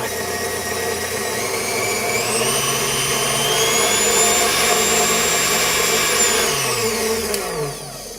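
A repaired KitchenAid stand mixer runs with a whisk attachment, a loud close motor whine that ramps up in pitch, holds steady, then winds down as it stops.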